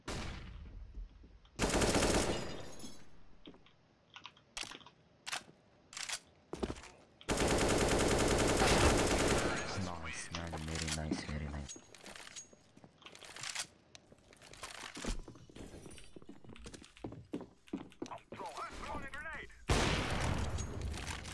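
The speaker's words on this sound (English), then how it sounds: "Nice shot, Jade." Rapid automatic gunfire and single shots from the CS:GO video game, in repeated loud bursts with a long sustained volley midway, mixed with clicks and crunchy game effects and occasional player voices over voice chat.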